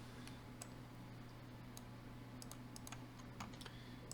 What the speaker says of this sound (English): Oh, my hands are on the wrong keys.